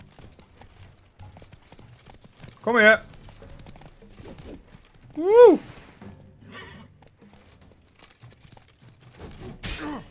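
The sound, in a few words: horse galloping in The Witcher 3 video game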